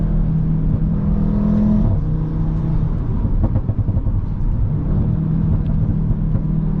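An Audi RS3 8V hatchback with a 564 hp tune accelerates hard on an unrestricted autobahn, its engine drone and road rumble loud and continuous from inside the cabin, with a gear change breaking the rising tone.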